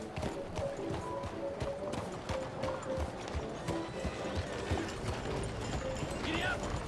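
Steady, rhythmic clip-clop of horse hooves on a street in Saint Denis in Red Dead Redemption 2, with creaking tack and mechanical rattles, moderately quiet and continuous throughout.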